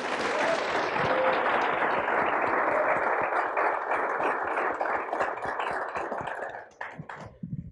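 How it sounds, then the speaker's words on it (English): Sustained applause from an audience at a university speech showcase, a dense wash of many hands clapping that holds steady for several seconds before thinning and fading out at the end. "A round of applause for our selection committee."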